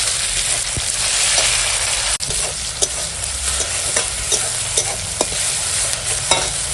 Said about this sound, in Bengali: এখন পেঁয়াজটা এরকম ভাজা হয়ে গেছে এখন দিয়ে দেবো এই যে কেটে রাখা টমেটো কুচি আর কাঁচা লঙ্কা কুচি